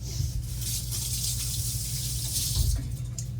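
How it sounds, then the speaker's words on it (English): A kitchen tap runs steadily into a sink during handwashing, a close, continuous splashing rush with slight swells in the flow. "I need to wash my hands."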